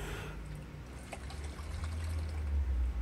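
Water being scooped out of an outdoor fish tub holding endlers, with gentle pouring and trickling close by, building to a steadier low splashing stream toward the end.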